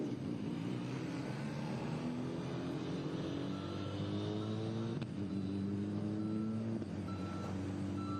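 Ligier Junior Formula race car on track at New Jersey Motorsports Park, its engine a steady, loud drone with pitch sweeping up and dropping back as it accelerates and shifts, heard alone without talk.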